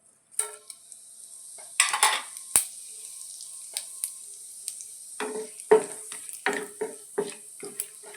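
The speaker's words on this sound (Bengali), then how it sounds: "তেল আমার গরম হয়ে গেছে, আমি ফোড়ন দিয়ে দিলাম।" Whole spices hit hot refined oil for tempering, giving a steady high sizzle with sharp crackles and pops scattered unevenly, close and fairly loud, plus a few spoon-on-pan clinks.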